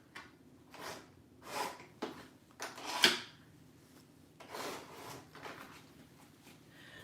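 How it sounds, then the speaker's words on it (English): Scissors or a blade cut through a piece of paper, a series of short rustling snips and crinkles, about eight distinct bursts spread unevenly, close and fairly quiet with no talking. "Hang on, I'm gonna cut a piece of paper."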